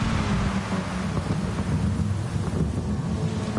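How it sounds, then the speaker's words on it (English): Steady rain with rolling thunder plays in a wet race in the Gran Turismo 7 racing game, a continuous loud rumbling wash that fills the whole clip with no voices. "Hearing the thunder and lightning going on in the background there."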